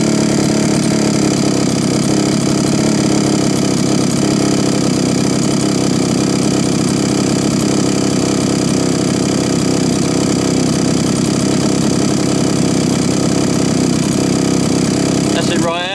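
A small two-stroke strimmer engine idles low and steady at close range for the whole stretch, with a slight change in tone near the end.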